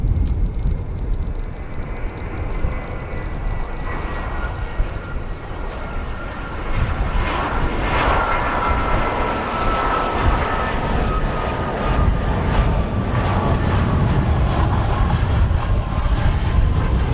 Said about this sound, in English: Here we have our Delta Airbus A320.